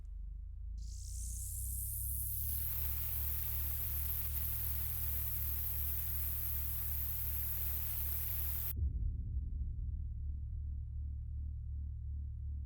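Loud electric buzz from a Draconic Evolution machine in Minecraft: a deep pulsing bass hum with a rising static hiss that swells over a few seconds, holds steady, then cuts off, leaving the low throbbing buzz alone.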